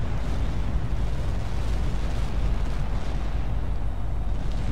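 Rumbling explosions from an aerial combat game, HAWX 2, with warplanes in battle: a steady, loud, dense roar of blasts and booms that continues without a break and has no talk over it.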